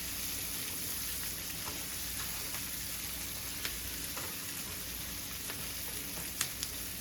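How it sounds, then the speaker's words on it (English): Butter sizzles steadily in a pan, giving a continuous crackling hiss at moderate level with small pops now and then. No one speaks. "Let them fry for about 3 minutes."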